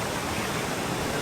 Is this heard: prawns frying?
no